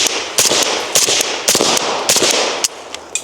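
AK rifle fired until the magazine runs empty, a string of loud, close cracking shots at a quick uneven pace, stopping with a few lighter mechanical clicks.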